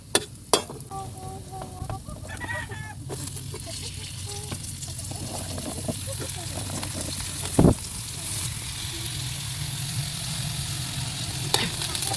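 Food cooks steadily in a pan with a continuous sizzle and occasional stirring scrapes, close and fairly loud, with a few sharp knocks and some background sounds mixed in.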